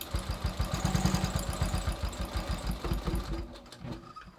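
A sewing machine runs a fast, steady stitching rhythm while reinforcing the front crotch seam on a pair of jeans being remade with a vintage flare, the motor slowing and stopping near the end.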